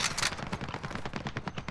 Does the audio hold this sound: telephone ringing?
no